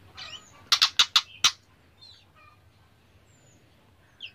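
A quick burst of five sharp white-rumped shama chirps in close succession, then quiet with a faint call near the end; no voices.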